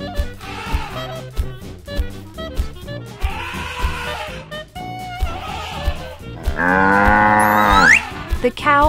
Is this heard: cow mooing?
yes